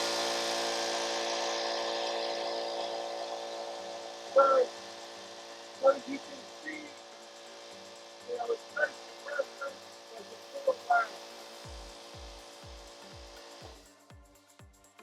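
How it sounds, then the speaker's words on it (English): A Harbor Freight air compressor runs in a workshop with a steady, fairly loud drone and faint hum, while someone speaks briefly over it; low thumping pulses come near the end as it stops. "I'll demonstrate my Harbor Freight trusty compressor."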